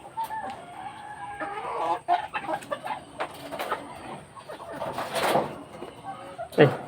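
Clucking and squawking ducks near the listener, with a person talking in the background and a sharp call near the end.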